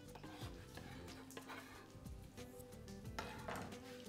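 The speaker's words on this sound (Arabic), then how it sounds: "وهدي تقليبه" Spaghetti carbonara with smoked beef being stirred in a pan, with soft scraping and clinking of a utensil against metal in an irregular rhythm, close up, over a low steady background hum.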